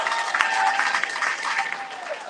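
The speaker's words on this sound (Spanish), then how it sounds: "Le damos un aplauso." A crowd at a citizenship clinic applauds the AmeriCorps volunteers, a full steady burst of clapping about two seconds long with a few whoops or cheers mixed in.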